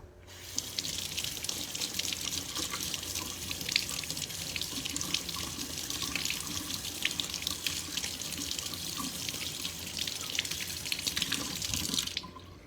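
Tap water runs steadily into a sink as an etched tiki torch is rinsed, a continuous close splashing rush that stops abruptly at the end, with no talking.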